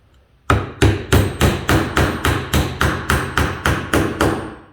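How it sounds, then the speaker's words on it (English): A hammer strikes wood about a dozen times in an even, quick rhythm while a simple wooden bird house is nailed together, each blow crisp and close with nothing else audible. "And then, a little fancy dancy hammer."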